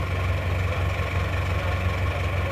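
A cold Panther car diesel engine idles steadily nearby, a rough, continuous low rumble with a faint knocking rhythm and no talking.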